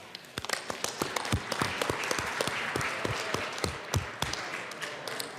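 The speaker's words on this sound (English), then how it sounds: "Please stand and let's give them a round of applause" Applause in the Colorado House legislative chamber, scattered individual claps that grow into a broader round of clapping, fairly close and without talk.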